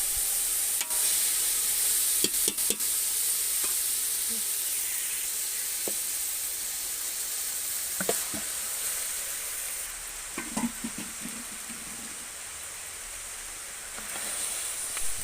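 Rice is mixed with vegetables and chicken in a hot pan for fried rice, a steady sizzling hiss broken by clustered spatula clicks and scrapes, close and loud, with no speech.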